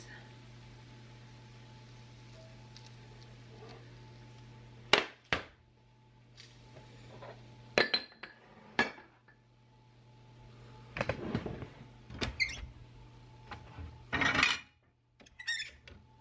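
Bacon grease is strained in a home kitchen amid a quiet hum, punctuated by several sharp clinks and clatters of dishes and metal cutlery, with a busier burst of clanking toward the end.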